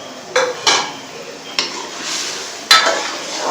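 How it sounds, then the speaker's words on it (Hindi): Green chillies and ginger are stirred together in a metal cooking pot, with four or five sharp scraping clinks of a utensil spaced over a few seconds against a faint background hiss. "इसको करेंगे अच्छे से मिक्स एक मरतबा।"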